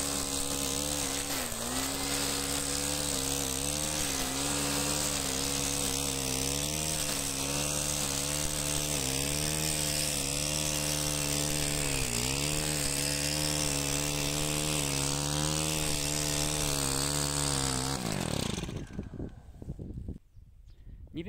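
A string trimmer spinning ECHO Black Diamond line cuts grass and throws the clippings back, its loud two-stroke engine whining steadily with slight pitch dips as it bites into the grass for about eighteen seconds, then cutting off abruptly.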